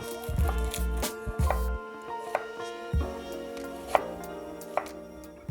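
A kitchen knife cubes an onion on a cutting board, giving a few soft taps and knocks amid quiet kitchen hum, fairly close and without talking.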